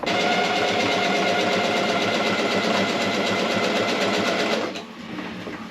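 A sewing machine stitching a seam on a fabric spinnaker bag for a Drascombe Lugger sailboat, running as a fast, even mechanical whir with rapid needle chatter, close and loud, then stopping abruptly near the end.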